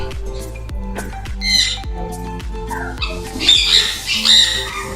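An exotic parrot at a breeder's setup in Karachi squawks loudly and repeatedly at close range, its harsh calls rising over background clicks and other birds.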